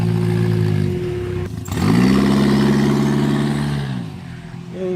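Turbocharged Chrysler LeBaron driving past nearby, a steady loud engine drone with clear harmonic tones that dips briefly, then swells again as the car pulls by and slowly fades.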